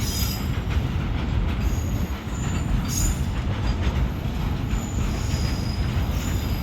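A train rumbles steadily past on the tracks at a village level crossing, loud and close, with a constant roar, metallic wheel squeal and rattling throughout.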